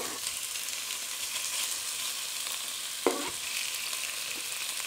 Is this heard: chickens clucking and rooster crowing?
no